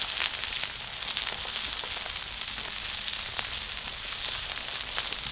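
Wagyu beef sears on a hot Brio grill sear plate, a steady close sizzle and hiss with small crackling pops throughout, no voices.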